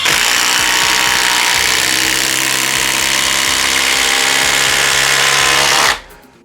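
A Flex cordless driver with a 2.5 amp-hour stacked lithium battery, set to speed 3, sinks an 8-inch timber lock screw, giving a loud, steady motor whine with a chattering impact rhythm that ends abruptly near the finish.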